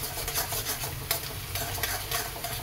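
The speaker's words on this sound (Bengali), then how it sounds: "পেঁয়াজ কুচিটাও ভাজা হতে থাকে, একটু লাল করে ভাজা হোক।" Chopped onion frying in a pan while being stirred, giving a close crackling sizzle broken by repeated scraping strokes of the spoon, with no voices over it.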